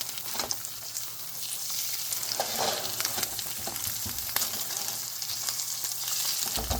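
Eggs frying in a pan after being flipped, cooked alongside corned beef hash, with a continuous close sizzle and a few soft scraping clicks from stirring, no talking.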